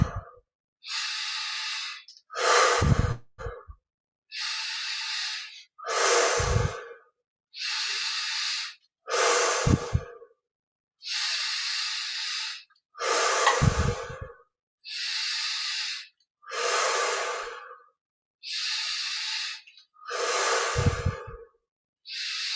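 Slow, regular mouth exhalations during a guided japa meditation, a dozen long breathy hisses spaced a couple of seconds apart, close and fairly soft, some ending in a short snort-like push, with no talking.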